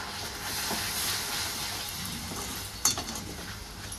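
A fresh coconut vadi mixture with milk cream is stirred in a hot pan, a soft steady sizzle and hiss with faint scraping strokes and one sharper clink near the end.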